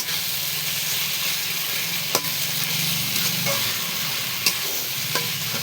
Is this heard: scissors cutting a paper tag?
no